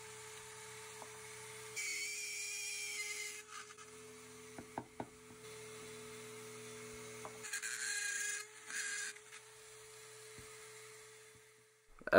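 A Dremel rotary tool fitted with a 561 bit carves a wooden bear, its motor whining steadily in the background while the cutter grinds against the wood in two longer bursts and a few short scrapes.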